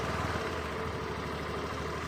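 A Honda Dio scooter engine runs steadily after an oil and filter change, a continuous close idle with a low rhythmic throb and no talk.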